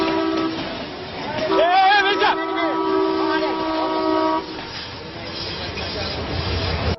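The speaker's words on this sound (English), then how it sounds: "another train fast approaches. It lays on the horn" An approaching train sounds its horn in one long, loud, wavering blast of several minutes' worth of layered tones compressed into about three seconds, over a rumbling background that continues after the horn stops.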